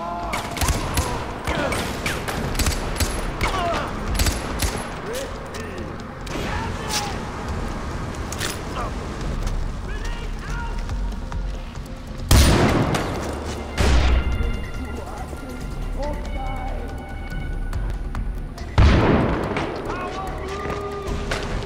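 Bursts of gunfire ring out in the Far Cry 4 shooter, with dense, continuous shooting and a couple of louder blasts mixed in. It is heavy but cluttered and sits under game noise with speech present.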